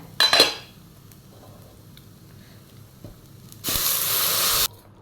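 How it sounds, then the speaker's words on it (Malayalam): Hot water poured onto fried rice in a pot while making Thalassery-style chicken dum biryani: a brief clatter of utensils, then a loud, steady hissing rush of water and steam lasting about a second before cutting off. "ഇനി ഇതിലോട്ട് ഞാൻ ചൂടുവെള്ളം ഒഴിച്ചു കൊടുക്കണ്ടേ"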